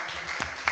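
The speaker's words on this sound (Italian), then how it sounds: "Con questo applauso salutiamo te" Audience applause at a conference on Catholic schooling in Italy, a short burst of steady clapping from a seated crowd.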